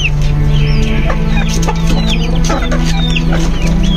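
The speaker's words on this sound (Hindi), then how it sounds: "ये भी छोटे से चूजे थे, अब बड़े हो गए, ये उनसे लड़ाई करते।" Several chickens cluck and squawk in rapid, overlapping bursts close by, sounding agitated as they fight, with a steady low hum beneath.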